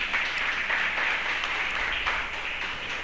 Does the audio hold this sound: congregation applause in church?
yes